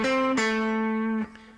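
A single guitar plays a short improvised lick within a scale: a plucked note, a second pick after a moment that rings on, and a last, softer note near the end. The notes are clear and sound alone.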